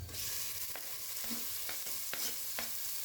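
Chicken pieces and reddened onions are stirred and fried in a pan for a bamboo-shoot chicken curry, giving a steady close sizzle broken by several sharp spatula scrapes against the pan.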